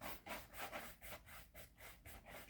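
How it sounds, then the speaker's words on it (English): A buffing brush is worked back and forth over a leather shoe to polish it. The soft, quick brushing strokes come close up in an even rhythm of about three or four per second, with no other sound. "just keep going over it with the buffing brush or the chamois towel"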